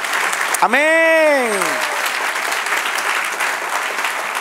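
Church congregation clapping together in a burst of applause, loud and close, with a voice calling out over it at the start as the clapping continues steadily throughout.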